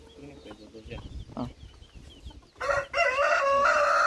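Chickens cluck in a backyard coop while a rooster crows loudly and close, the call rising at the end after softer clucks and brief human speech.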